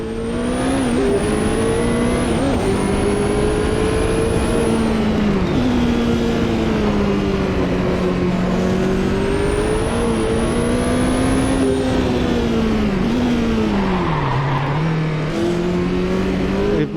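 A race car engine in a sim racing game, driven with a Fanatec ClubSport shifter, drones loudly and steadily for the whole stretch, its pitch rising and dropping through gear changes with high whining tones above.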